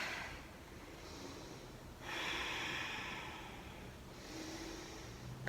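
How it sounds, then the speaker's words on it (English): A deep, breathy exhale during yoga practice, soft and close, with a couple of long airy breaths and a faint snort-like edge, heard alone without talk. "Take a big inhale. Exhale, fold forward."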